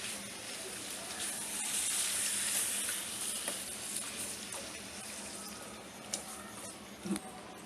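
Water from about one and a half glasses is poured into a pan of sizzling chicken masala gravy, a soft hiss and splash rising briefly under the steady frying sizzle, with faint clinks of a utensil afterward.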